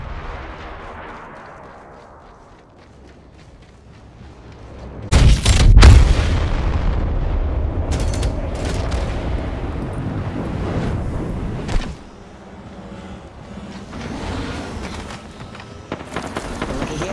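Deep booming airstrike explosions erupt in a rapid cluster in the video game Apex Legends, followed by rumbling blasts and crackling debris, then a quieter stretch before more distant thuds.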